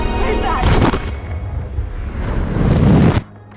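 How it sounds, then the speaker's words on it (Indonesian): Explosion in an alien invasion film scene, a loud booming blast with a rumbling roar that swells, sustains for a few seconds, then cuts off abruptly. "tidak lama ledakan pun terjadi"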